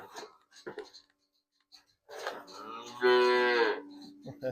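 Hungry calves on a village dairy farm give a loud, drawn-out moo up close, with some indistinct speech and handling noises before it.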